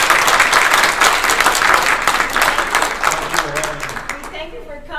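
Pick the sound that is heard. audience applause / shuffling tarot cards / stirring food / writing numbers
audience applause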